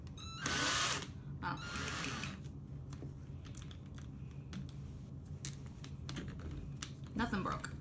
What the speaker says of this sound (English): Attempt number 2. First one with power drill.